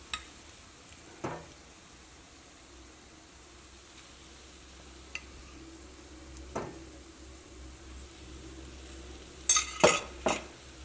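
A spoon stirs egg and tomato masala in a pan, producing faint scattered scrapes and clinks over a quiet background, ending in a short burst of louder metallic taps.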